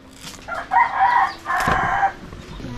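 Farmyard chickens close by let out two drawn-out crowing calls one after the other, with a few clucks in a quiet rural setting.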